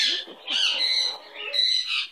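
A pet bird, a parrot with a bare belly, squawks in three harsh, raspy bursts separated by short pauses, close and fairly loud with no talking.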